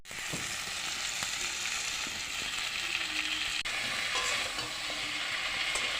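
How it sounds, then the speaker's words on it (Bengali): An eggplant and fish curry with salt, turmeric and chilli is stirred in a hot pan, giving a steady, close frying sizzle with light scraping throughout. "আমি নাড়ি চালিয়ে দিচ্ছি।"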